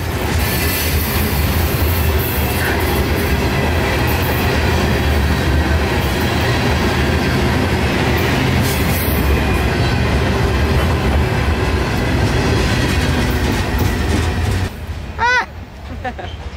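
A southbound mixed freight train rolls past with a continuous heavy rumble and rattle of cars, loud and near, with a brief squeal toward the end.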